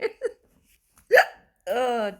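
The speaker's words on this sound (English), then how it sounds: "Back with the hiccups." Two quick hiccups close to the mic, then after a pause a sharper gasping hiccup, followed by a voiced groan.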